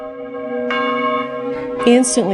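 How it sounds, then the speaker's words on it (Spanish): A church bell rings out in long sustained tones with layered overtones, a fresh strike joining near the end, loud and close with no talk over it. "las campanas de la iglesia empezaron a tocar espontáneamente"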